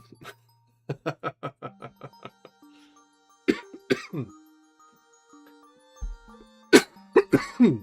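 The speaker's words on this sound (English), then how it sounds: "I will eventually be rid of this cough." A run of quick, dry coughs in a rhythmic burst, then a few heavier, separate coughs and throat clearing later, close and alone.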